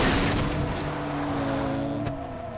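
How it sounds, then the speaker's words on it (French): In Far Cry 3, a car engine drones steadily while driving, with a mid-pitched continuous whine that dips slightly near the end. "On va prendre une voiture bien sûr dans mon rôle de conducteur hors pair"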